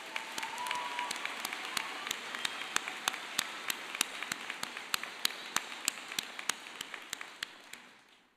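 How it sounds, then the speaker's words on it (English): Sustained audience applause at a university College of Business commencement ceremony, a dense steady wash of clapping with a regular sharp nearby clap standing out, fading slightly toward the end. "Let's give you another round of applause."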